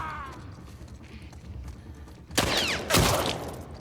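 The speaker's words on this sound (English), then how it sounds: "Shot his arm off" Gunshots strike an enemy in The Last of Us Part II, two sharp loud bursts landing close together after a stretch of low ambient game noise.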